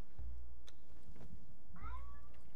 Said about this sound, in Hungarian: Úgy hallom, hízeleg a macskája.